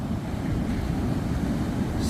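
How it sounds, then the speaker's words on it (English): Slight northerly wind on a long, flat beach, a steady low rumbling buffet of air mixed with distant surf, continuous and fairly loud with no voices. "Slight northerly wind"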